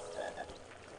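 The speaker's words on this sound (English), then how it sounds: "I can hear a frog." A single frog croaks in a Harry Potter video game, one short, fairly faint croak on its own.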